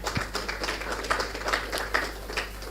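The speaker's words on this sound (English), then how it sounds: "A round of applause." Conference audience at a corporate governance event gives a round of applause, an even, moderately loud patter of many hands clapping.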